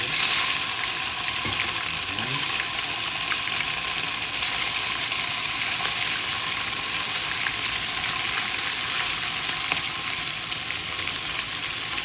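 Small tambal fish frying in hot cooking oil, a steady, dense sizzle that carries on loud and close for the whole stretch without pause.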